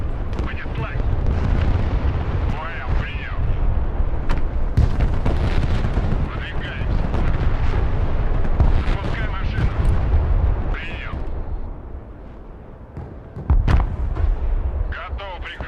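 Heavy naval gunfire from a battleship in the strategy game Broken Arrow, a dense ongoing barrage of deep booms and blasts rumbling continuously, with people talking over the shelling.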